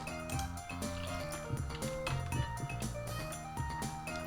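A watering can pours onto a cactus indoors in the video game Stardew Valley, a short splashy trickle with light clinks, partly masked by upbeat background game music.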